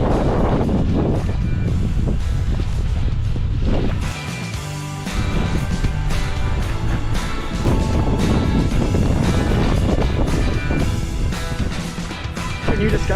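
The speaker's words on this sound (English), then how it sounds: "the wind is blowing to us from that direction" While biking outdoors around Auckland, strong wind roars across the microphone in a loud, constant rush that barely lets up for the whole stretch, with no talking heard.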